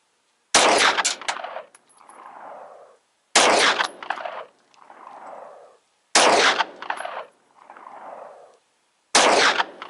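Four loud, evenly spaced shots from a full-size 9mm pistol firing Team Never Quit 100-grain frangible hollow-point rounds, each sharp crack followed by a rolling echo and a few seconds of quiet.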